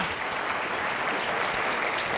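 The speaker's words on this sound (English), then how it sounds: "Give a round of applause for helping us with the microphone." Audience of orthodontists at a study group applauding, an even, sustained wash of many hands clapping at moderate loudness with no pause across its short length.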